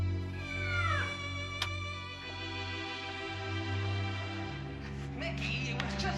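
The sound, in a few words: cat meowing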